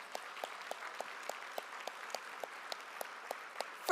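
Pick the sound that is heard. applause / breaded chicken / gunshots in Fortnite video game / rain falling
applause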